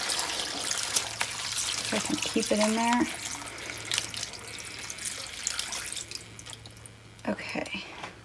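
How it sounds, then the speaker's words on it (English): Seven cups of water are poured into a crock pot for red beans and rice, a splashing, trickling flow heard faintly under a person talking, with clatter near the end. "Now I'm gonna add 7 cups of water to the crock pot."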